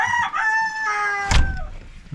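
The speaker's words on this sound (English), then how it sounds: "And new roosters." A rooster crows loudly and close by in one long, drawn-out call with a rising then falling tone. A few short clucks and farmyard noises follow at the end.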